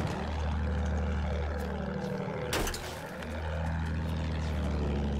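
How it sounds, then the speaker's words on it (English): Enemy plane in the game Battlefield 1, a droning propeller engine with pitch sweeping past, a sharp burst midway as it passes close, then the drone resumes. "Enemy plane spotted."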